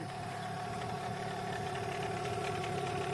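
A newly started outboard boat motor runs in at a steady idle, an even mechanical drone with a faint knocking pulse that holds at a constant level throughout.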